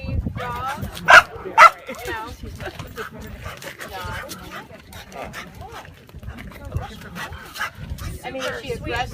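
A female dog in a handling and safety setting barks in several sharp, loud bursts early on, then whimpers and vocalizes intermittently, with people talking nearby throughout.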